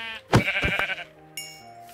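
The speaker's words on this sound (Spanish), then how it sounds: "creo que por aquí vi alguna oveja, ¿verdad?" Sheep bleating in the video game Minecraft, two wavering nasal bleats close together at the start, followed by quieter background game tones.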